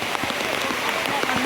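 Heavy monsoon downpour in the Girnar hills of Junagadh, a brief burst of close, steady rainfall drumming on surfaces with an even, unbroken roar.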